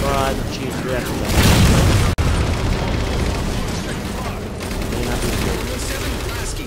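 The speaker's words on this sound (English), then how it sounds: "What are they shooting at now?" Dense, sustained gunfire and booming explosions fill a Halo 4 battle aboard the Infinity, a loud continuous barrage with heavy low rumble, briefly cut by a sharp crack, under faint voices.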